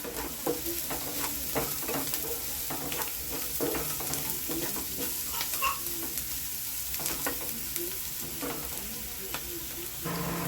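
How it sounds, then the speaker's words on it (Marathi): Onions turning golden and frying in a pan with a pinch of salt make a soft, steady sizzle broken by repeated scrapes and taps of a stirring spoon, fairly quiet and close. "जरा मीठ टाकायचं, म्हणजे पटकन कांदा भाजू शकतो।"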